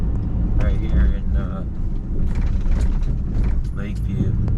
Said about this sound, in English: As you can hear by the rattles in my truck